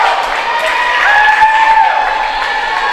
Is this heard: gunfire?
no